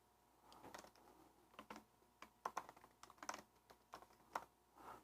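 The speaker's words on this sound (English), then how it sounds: "it's really hard to type in front of the camera" Bursts of keystrokes on a computer keyboard, uneven and fairly quiet, close by in a still room with no talk.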